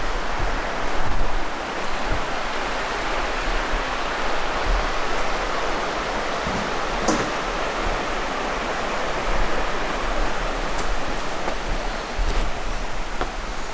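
Steady broadband rush of a stream flowing beside a roadside campsite, continuous and fairly close with no speech, only faint occasional clicks over the water.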